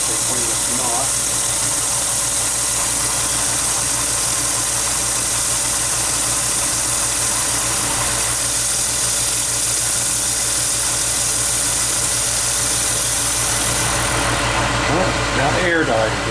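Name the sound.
small air compressor running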